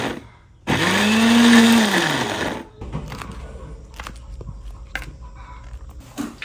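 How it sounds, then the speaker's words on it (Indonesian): An electric blender grinds a spice paste of shallots, garlic, turmeric, ginger and red chili, running loud and steady with a rising-and-falling whine for about two seconds before cutting off, followed by quieter kitchen handling noises. "sekarang kita mau blender bumbunya"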